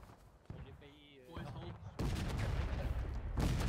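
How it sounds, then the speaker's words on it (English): Gunfire and booming cannon fire in War of Rights, a multiplayer Civil War-era battle game, starting faint behind voice chat and then swelling into a loud, dense continuous barrage for the last two seconds. "it sounds like our guys got on the cannons now"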